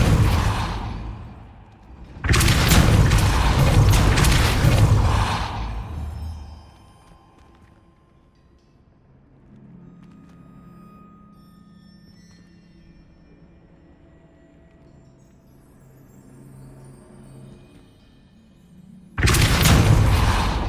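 In the video game Hogwarts Legacy, a Depulso spell lands with a loud, deep booming blast lasting a few seconds, followed by quiet game ambience and then another heavy blast at the end.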